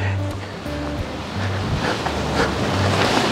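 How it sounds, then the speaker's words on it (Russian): Strong wind rushing and gusting against the microphone in a village, a broad steady roar with some low rumbling and a faint tonal hum. "Ветрило такое, конечно."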